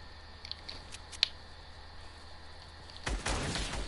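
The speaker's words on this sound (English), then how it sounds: "He just sniped me!" A sniper rifle shot in a first-person shooter game, a single sharp loud crack near the end, standing out over faint ambient game noise with a few small clicks before it.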